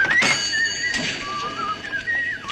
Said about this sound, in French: Vous sifflez?